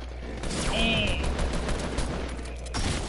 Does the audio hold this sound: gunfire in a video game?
yes